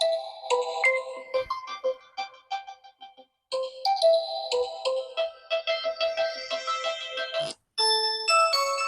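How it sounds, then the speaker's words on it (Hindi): Ringtone melody played through the dual speakers of an Infinix Hot 50 Pro phone, a bright chiming tune of quick electronic notes in phrases with short pauses, clear and alone. "ये इसके साउंड है, साउंड सुनते हैं ड्यूल स्पीकर के साथ।"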